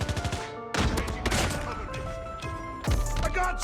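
Gunfire in Call of Duty Mobile, heard as several loud bursts of rapid shots separated by short gaps, with game music and effects sounding beneath.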